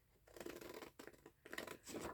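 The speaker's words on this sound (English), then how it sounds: "I think I'm going to cut this one out with not the most wonderful scissors" Paper cut with large scissors in a quiet room, four or five crisp snipping and rasping strokes in an uneven rhythm, close and soft.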